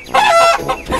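A chicken clucks once in the video game Dude Simulator, a short, loud and close squawk with no talk around it.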